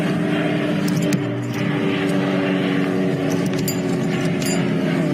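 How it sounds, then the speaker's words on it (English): A Cessna Grand Caravan airplane passes over a bush airstrip on a safari drive, its engine giving a continuous, fairly loud droning hum that holds steady throughout, with no voices. "there's an airplane coming past"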